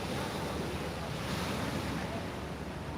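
Ocean waves wash onto Jomtien Beach in Pattaya with a steady, broad surf roar mixed with wind buffeting the microphone, continuous and fairly loud with no voices.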